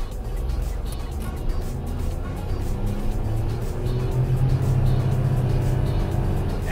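A small Japanese-market car's engine drones steadily from inside the cabin, its pitch climbing gradually as it accelerates to about 50, with a slight rise near the end.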